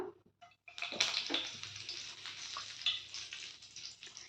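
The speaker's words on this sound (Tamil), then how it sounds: "இப்போது சோம்பு வந்து பொரிஞ்சிருச்சுங்க" Fennel seeds spluttering in hot oil for a Tamil poricha kuzhambu make a quiet, crackling hiss. It starts after a brief near-silence and then sizzles on steadily, with no one talking over it.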